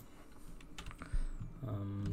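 Keystrokes on a computer keyboard, a few quiet irregular clicks and taps at close range, with a low hum rising toward the end.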